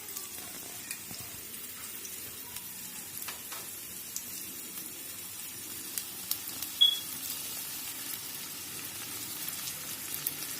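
Soya sauce sizzling in a hot pan with vegetables for veg Manchurian, a soft steady fizzing crackle with a few small pops, fairly quiet and without talking.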